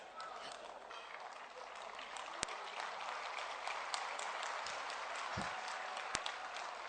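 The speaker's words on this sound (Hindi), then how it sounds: "हाँ तो ताली बजाइएगा या धीरे से बजाइएगा।" Audience applause at a public event where a statue of Prithviraj Chauhan is unveiled, steady dense clapping from a large crowd filling the whole stretch at moderate level, with a few sharp louder claps standing out.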